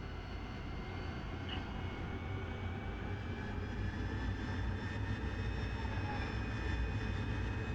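An AV-8B Harrier jet engine roars steadily as power is added with the brakes held, a dense continuous rumble with a faint high whine rising slightly over time, loud and unbroken.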